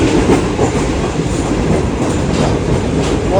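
Steady, loud rumble and rhythmic clatter of a running Pakistan Railways passenger train heard from inside a sleeper coach, continuous and close with no talk.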